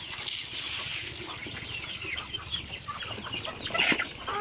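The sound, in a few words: chickens clucking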